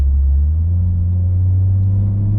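Toyota Supra on the Nürburgring, a steady close engine drone with deep rumbling cabin and road noise, holding even throughout without revving changes or talk.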